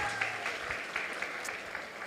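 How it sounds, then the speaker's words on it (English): Moderate applause from a gathering at a Sunday feast, thanking the cooks and bakers of the cake and buns, a steady patter of many hands with a few louder claps standing out, heard from some distance. "Let's all give them a round of applause."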